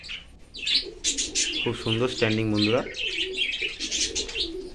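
Pigeons in a loft, with a harmonic coo sounding twice near the middle, over chirps and bird noise, while someone speaks throughout.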